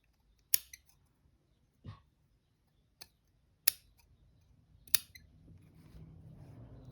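Scissors snipping through fabric while making a Christmas cushion: five sharp, separate cuts spaced about a second apart, close and crisp, with quiet rustling handling noise building toward the end.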